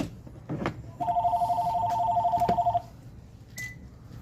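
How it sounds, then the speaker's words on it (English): A telephone rings in a workshop during a truck window motor and regulator repair: a steady electronic double-tone ring lasting nearly two seconds, loud and close, with no talk over it. "I'll have to answer the phone."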